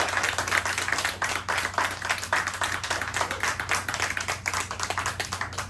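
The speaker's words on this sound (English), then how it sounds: "let's give Sam another round of applause" Audience applause for a performer at a live spoken-word show, a dense, steady wash of many hands clapping throughout at an even level, with a faint low hum underneath.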